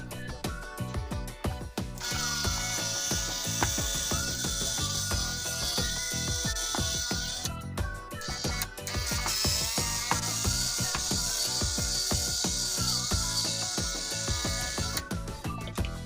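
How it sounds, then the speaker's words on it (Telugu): A DIY electric screwdriver with a magnetic bit unscrews a calculator, its ratcheting, clicking whir running steadily and loudly for the whole stretch, with a few brief pauses where the motor stops and restarts. "అలాగే ఇది ఒక క్యాలిక్యులేటర్ అనమాట. దీని అయితే ఒకసారి అన్స్క్రూ చేద్దాం"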